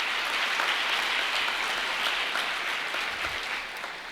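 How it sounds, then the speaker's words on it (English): Sustained applause from a large audience at a community foundation's annual meeting fills the whole stretch, loud and even, tapering slightly at the end. "So give yourselves a round of applause for that."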